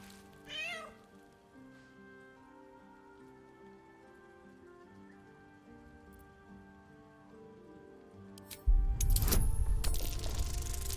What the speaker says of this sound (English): The cat peers back.